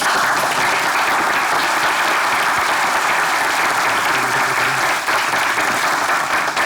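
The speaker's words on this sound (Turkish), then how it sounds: "huzurlarınıza davet ediyorum alkışlarla" Sustained, loud applause fills the hall as an audience welcomes a party chairman to the stage at a party's ordinary general congress, dense and steady throughout with no speech over it.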